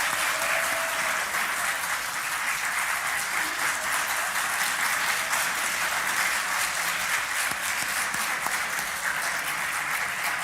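Applause fills the chamber of the Armenian parliament, a dense, even wash of many hands clapping that holds steady and loud throughout without a break.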